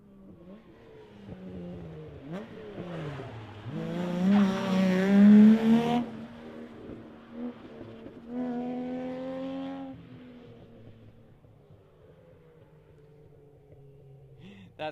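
A Subaru Legacy rally car in the normally aspirated open class revs hard and accelerates past on The Ridge Motorsports Park super special stage at the Olympus Rally, its engine rising and fading with a few gear changes and a short tire squeal.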